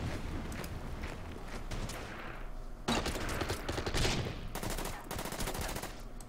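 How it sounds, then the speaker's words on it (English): Artillery strike pounding a bunker in the turn-based war game Order of Battle, set among the Marshall Islands with US Marines: a loud, continuous barrage of rattling blasts and bursts, heavier in the second half, with no talking. "Artillery on the bunker and move these guys in."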